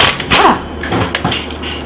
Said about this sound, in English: for ease of removal, I'm using a air impact gun